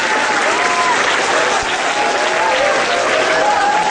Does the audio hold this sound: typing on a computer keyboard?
no